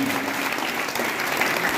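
Steady, dense applause from an audience at a school quiz competition for Gandhi Jayanti, sustained and even for the whole moment.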